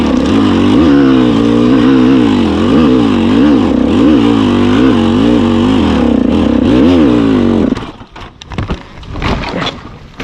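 A 125cc enduro motorcycle revs hard and loud for about eight seconds, its pitch rising and falling in repeated throttle blips, then cuts to quieter scattered bursts and noise.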